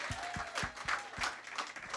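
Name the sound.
audience applause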